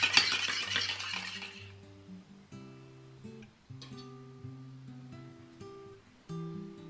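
Teriyaki sauce is mixed in a bowl, giving a run of light clinks and scrapes of a utensil against the bowl. An early rustling gives way to quiet, separate chinks, close up with no talk.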